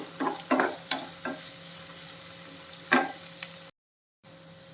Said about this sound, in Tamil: ஒரு நாலஞ்சு பல் பூண்டு இது எல்லாமே சேர்த்து வதக்கிடலாம்